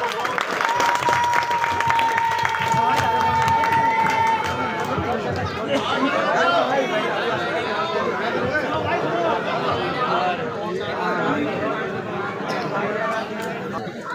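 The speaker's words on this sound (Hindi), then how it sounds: "जोरदार तालियों से इस्तकबाल कीजिए साथी अपने दोस्त" Crowd applause welcoming a speaker at an election rally in Chauhan Bangar, loud dense clapping mixed with cheering and chatter from a large gathering, a whistle ringing early and the noise continuing throughout.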